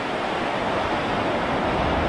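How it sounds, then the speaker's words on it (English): Ocean surf breaking steadily on a sunny beach on the coast of Maine, a continuous broadband wash of waves with no gaps, close and fairly loud with no voices. "Breakers coming in."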